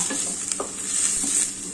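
Dried red chillies fry and get stirred in a hot pan, a steady close sizzle with scraping stir strokes and occasional soft clinks, no voices.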